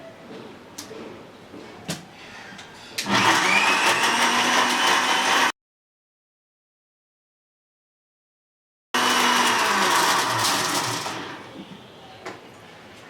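Kitchen blender whirs loudly while mixing black currant (falsa) and mint juice, in two strong motor runs separated by a pause, with quieter handling noises before and after.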